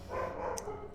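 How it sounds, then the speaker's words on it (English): A small dog yaps upstairs, muffled and somewhat distant, with one brief sharp yip rising over a low indoor hum. "My dog is yapping upstairs."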